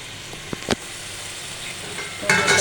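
Tinda (round gourd) fries in a pan for a green chili chutney dish: a few sharp utensil clicks over a soft sizzle, then the frying surges louder and hissier near the end.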